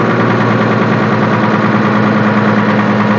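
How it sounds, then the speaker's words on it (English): A Nissan Condor lowbed car carrier truck with an FE6 diesel engine runs steadily while its winch rolls back, producing a loud, constant mechanical drone with a steady low hum throughout. "like I said, that one, I'm rolling the winch back"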